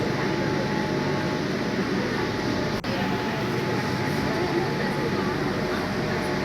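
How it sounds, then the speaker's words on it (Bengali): A Kolkata Metro train rolls along on the stretch toward Howrah beneath the Ganga, a steady close rumble of wheels and carriage with a brief sharp click partway through. "দেখতে পাচ্ছেন ট্রেন এসে গেছে, ট্রেনে উঠে পড়লো।"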